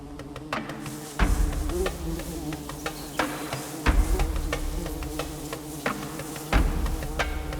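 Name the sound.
female bees working on the nest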